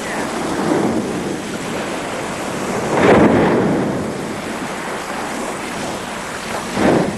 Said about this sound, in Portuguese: O som da cauda da baleia contra a água alcança quase 2 quilômetros de distância.